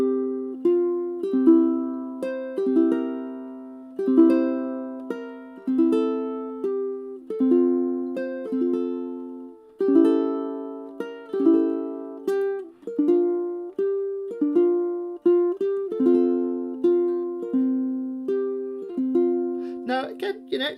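Solo ukulele plays an eight-measure song arrangement, plucked notes and chords ringing out and decaying in a clear melodic rhythm, close and fairly loud with no voices.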